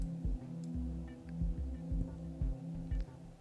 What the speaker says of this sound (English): 3D printing in action.